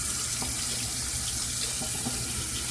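Water runs steadily from a tap as a shaving brush is rinsed, a constant close hiss and splash with no talking.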